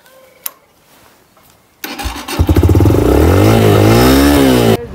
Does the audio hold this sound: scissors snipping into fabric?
no